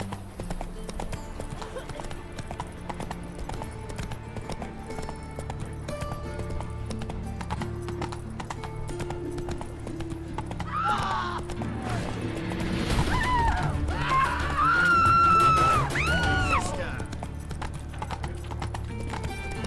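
Hooves of the horse Roach clip-clop at a steady gallop in The Witcher 3 video game, with a loud neigh rising near the end over game music and effects.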